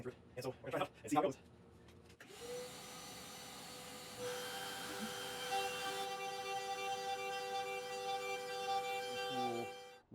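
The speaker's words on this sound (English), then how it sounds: "here I am cutting out both the pickguard and the body for the swimming pool route" CNC machine routing a guitar pickguard and body for a Telecaster-style build, a steady loud whining drone with tonal harmonics that starts after a short stretch of talk and runs continuously to the end.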